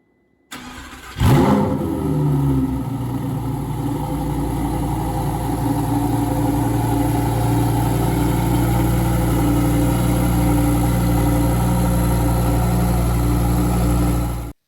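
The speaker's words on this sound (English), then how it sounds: "That was just a slight glimpse of the exhaust note" A Lamborghini Huracán STO's V10 engine fires up with a sharp rev, then settles into a loud, steady, deep rumbling idle that continues for many seconds.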